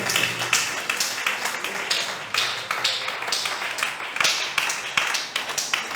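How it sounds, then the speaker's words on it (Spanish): A church congregation claps in a fast, uneven patter of many hands, moderately loud and continuous, with a faint voice now and then underneath. "Dele un aplauso fuerte a Jesús"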